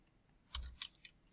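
Code is typed on a computer keyboard into a Python interactive prompt, a handful of quiet, close key clicks in an irregular rhythm, alone without talk.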